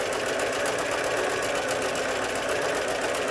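Sewing machine stitching fabric strips while piecing a rail fence quilt block, a steady fast mechanical whir that runs without pause at close range, with no talking.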